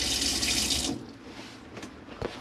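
Cold water gushes from a Tribute F62 caravan kitchen tap for about a second, then stops, followed by a couple of faint knocks and clicks near the sink.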